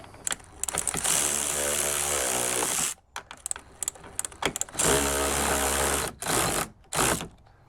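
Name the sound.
driving screws to mount a Toyota RAV4 side mirror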